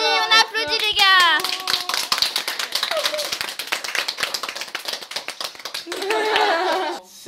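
A small group of friends clap their hands together in a brisk, uneven burst that runs for several seconds, with voices and laughter over it at the start and end.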